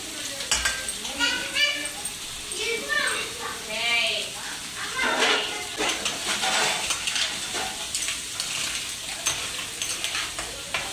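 Crab pieces go into hot oil in a pan for a crab curry with drumsticks, sizzling and frying steadily while being stirred, with spoon scrapes against the pan and someone talking over the cooking.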